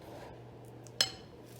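A metal spoon gives a single sharp clink against a dish while scooping mashed potato into baked potato skins, heard once, close and clear over a quiet kitchen background hum.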